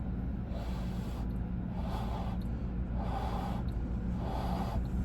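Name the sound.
blowing across a bottle opening, imitating air over holes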